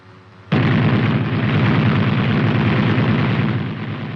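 The cupola machine gun of an M551 Sheridan light tank opens up in a sudden loud burst that becomes a sustained rapid stream of fire for about three and a half seconds before it begins to trail off.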